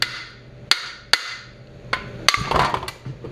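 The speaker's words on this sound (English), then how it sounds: "I'm probably going to use a brass hammer and just hold the crank" A brass hammer strikes near a 1956 Cooper Cyclo-Mo-18's Briggs & Stratton engine to knock off the flywheel, giving about six sharp metallic blows at uneven intervals, close and loud, followed by a brief rattling clatter.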